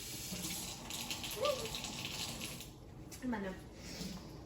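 Water runs from a tap during fridge cleaning, a steady wash of splashing flow with a couple of louder gushes, heard close alongside faint background voices.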